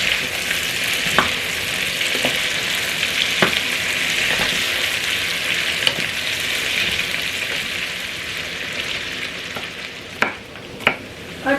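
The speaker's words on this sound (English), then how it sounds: "I'm going to add the potatoes that I've chopped. I'm going to fry these for about 7 to 10 minutes." Chopped potatoes fry in a pan with a steady, close sizzle that runs throughout, broken by occasional sharp clicks of stirring.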